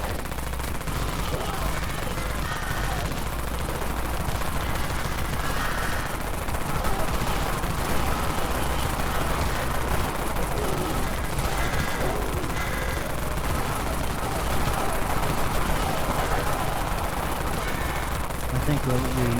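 Rapid, sustained automatic gunfire from the Dawn Mag in the game Dead Frontier, a loud, continuous rattle of shots that runs unbroken throughout, with a voice speaking over it.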